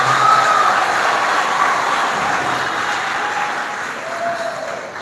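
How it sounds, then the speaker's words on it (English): Applause at a graduation ceremony for the New Life Organization, a broad crowd clapping that starts full and gradually thins and fades over the few seconds. "Can we please give him another round of applause?"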